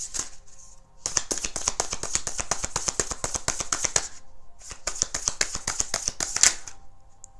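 A deck of cards being riffle-shuffled during a tarot reading, heard as two bursts of rapid crisp flutters, each flicking fast and evenly before a short pause and a second run, close and fairly loud with no talking.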